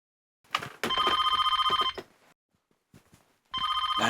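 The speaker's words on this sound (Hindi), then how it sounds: "लैंडलाइन पे कौन फोन कर रहा है?" A landline telephone rings in a home scene, two loud electronic ring bursts separated by a short pause with faint movement between them.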